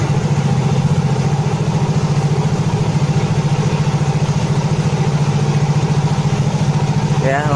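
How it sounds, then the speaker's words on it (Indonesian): A Yamaha Mio J scooter with a slipping electric starter and a fault that makes it stall suddenly is kick-started and idles. Its steady, rapid engine putter stays close and loud the whole time. "Kita hidupin motornya ya. Kita coba hidupin ya."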